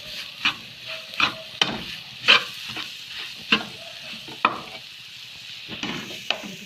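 Boiled, mashed potatoes being stirred and mixed in a pan for Tamil-style egg rolls, with a spoon scraping and clacking in a series of distinct strokes over a soft, steady sizzle, close up and with no talking.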